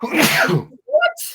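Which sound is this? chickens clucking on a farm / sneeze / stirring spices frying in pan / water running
sneeze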